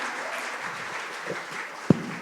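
An audience applauds an angklung music group at a university Eid al-Fitr gathering in Bandung, steady dense clapping at moderate level from start to finish, with one sharp louder thump near the end.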